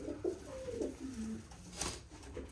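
A male pigeon coos in a short series of soft, low, rolling calls, close and clear, with no talking over them.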